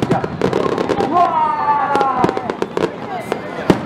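Drooping willow-type fireworks bursting at a Japanese dontosai fire festival, several sharp crackling pops spread across a few seconds, with people talking and exclaiming throughout.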